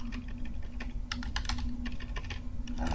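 Quick, steady clicking of keys on a computer keyboard, soft and continuous over a low background hum, with bursts of faster keystrokes.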